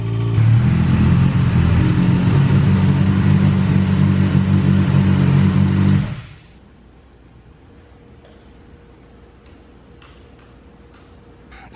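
A Kawasaki ZX6R motorcycle engine runs loud and steady close by for about six seconds, then cuts off abruptly, leaving quiet background with a few faint ticks.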